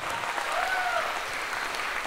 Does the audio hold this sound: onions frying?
no